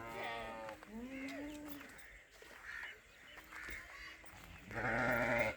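Kajli sheep and goats on a farm bleat repeatedly, several overlapping calls near and farther off, with a loud close bleat at the end and some talk in the background.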